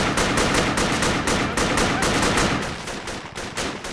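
Sustained, loud automatic gunfire in the military shooter game Project Reality, with rapid bursts from several weapons overlapping continuously throughout the clip.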